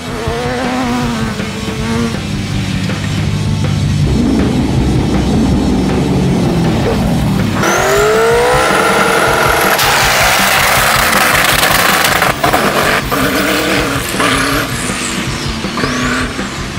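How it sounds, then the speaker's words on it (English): Pro buggies race off-road at night in dry, dusty conditions, a loud continuous engine roar with rising revs and whining passes, heard without talking. "a pro buggy at full noise through the night is something to behold"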